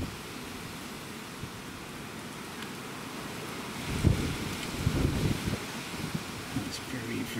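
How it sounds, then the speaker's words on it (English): Strong wind blowing outdoors in Cambridge, UK, a steady rushing roar buffeting the microphone with louder gusts swelling toward the end. "It's very, very windy today in Cambridge."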